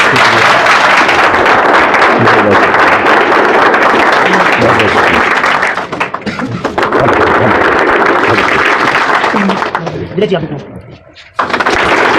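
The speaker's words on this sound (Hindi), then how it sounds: "एक बार वेलकम करेंगे सभी लोग, जोर से तालियां।" A large audience at a Vestige success-story event welcomes a guest with loud, dense, sustained applause that fills the room almost continuously, briefly thinning twice before surging back.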